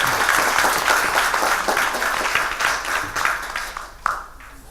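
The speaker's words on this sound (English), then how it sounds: "if we can have one round of applause for Sakha and all those market players" A round of applause from a seated conference audience, dense clapping that holds steady and then thins out toward the end.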